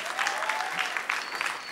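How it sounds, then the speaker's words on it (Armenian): Audience applause at a televised dance-show gala concert, a steady wash of many hands clapping throughout, fairly close and even. "Այո, կարող եք ծափարել"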